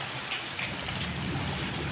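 Steady, heavy rain pours down at nightfall, with low rumbles of thunder rolling beneath the downpour throughout.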